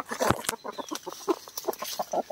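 Several chickens clucking busily at close range while being fed leaves, a dense run of short clucks and chatter with a sharp click near the start, no voices.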